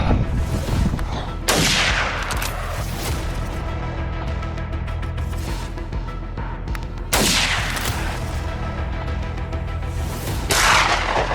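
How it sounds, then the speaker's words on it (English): Gunshots fired at a herd of wild boars on a Canadian farm: three loud, sharp reports spaced several seconds apart, each ringing out over a steady low rumble. "A herd of boars could scatter immediately after the first shot"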